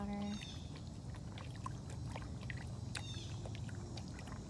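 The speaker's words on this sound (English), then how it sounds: "Yeah, so this is Armani, just getting a drink of water." A big cat at a rescue sanctuary drinks water, giving a steady wet lapping and trickling sound over a constant outdoor hiss, with faint bird chirps now and then.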